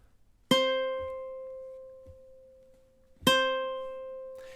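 Two ukulele chords strummed a few seconds apart from measure 14 of the MASH theme, each ringing out and slowly decaying, quiet and close with faint background noise.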